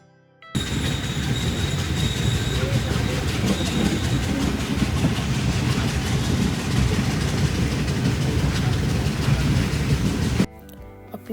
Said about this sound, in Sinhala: අපි දැන් ස්ටේෂන් එකට වෙලා ඉන්නවා ට්‍රේන් එක එනකම්